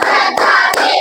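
Hand clapping in a classroom ice-breaking game, a few sharp claps standing out from a steady bright background of children's voices and room noise, close and fairly loud.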